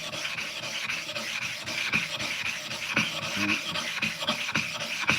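A sharpening stone being flattened by rubbing, heard as repeated gritty, rasping strokes in a steady back-and-forth rhythm, close and moderately loud, with nobody talking.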